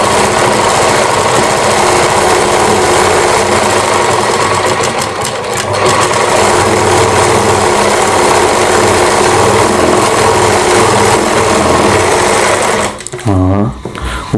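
A sewing machine stitching a blouse (kanchli), running in a loud continuous whirring rattle for most of the stretch, then stopping near the end, with a voice speaking over it.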